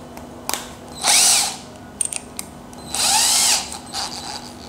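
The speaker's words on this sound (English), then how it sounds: "You must watch the video, okay, of how to set up a battery drill." A battery-powered drill whirs in two separate bursts of about a second each while setting up to fit cabinet door hinges, with clicks and handling knocks between the runs. It is close and loud, and nobody talks.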